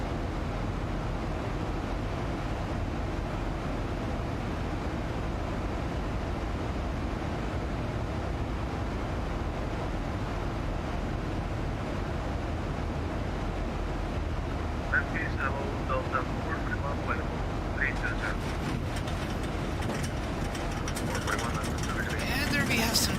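Steady, loud engine drone of a Boeing 737-800 in the X-Plane 11 flight simulator fills the cabin, a continuous low roar with faint clicks and rustles toward the end.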